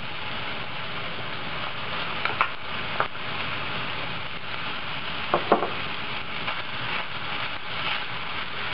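Ground pork and minced shrimp fry in a pan with a steady, dense sizzle, broken now and then by soft scrapes and clicks of stirring, close and continuous with no voices.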